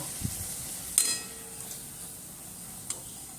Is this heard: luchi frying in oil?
yes